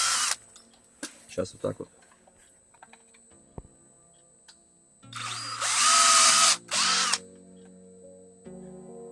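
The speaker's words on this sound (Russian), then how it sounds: "Берем шуруповерт, сверло М5" Cordless screwdriver with a 5 mm bit drilling into a motorcycle tire: several short bursts, then a loud sustained whine of a few seconds and a final shorter burst, close by, with a brief spoken remark.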